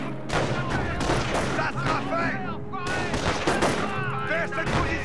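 Rapid, overlapping tank destroyer cannon fire crackles and booms in dense volleys in a Company of Heroes battle, with gunshots repeating nonstop under someone speaking French.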